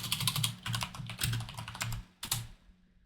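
Keys clatter in quick, irregular bursts as someone types at a computer keyboard while entering commands in a Linux terminal, close up and steady, with a short pause before a final burst of typing.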